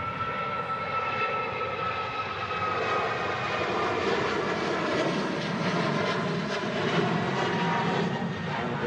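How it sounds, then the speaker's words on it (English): A one-year-old Aer Lingus jet in flight, heard from inside the cabin as a loud, constant engine roar and rushing drone that holds steady throughout. "On this one year old aircraft from March 2021."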